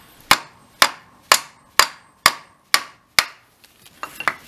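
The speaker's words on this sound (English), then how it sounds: "So we'll give it a few whacks and see what happens." Seven sharp, evenly spaced hammer whacks ring out loud and close as a plate is driven out from the center of the front plate on a Scott Bonnar 45 mower during teardown, followed by a few quieter knocks.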